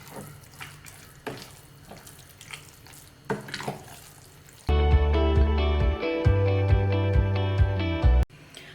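A spoon stirs plenty of curd into cooked rice for South Indian curd rice, giving close, wet squelching and scraping strokes repeated every second or so, before steady music takes over halfway through.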